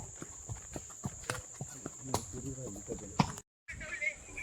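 Horse hooves clip-clop at a steady walking pace, close by, with faint background voices and hiss, on a hill-station horse ride near Lonavala point.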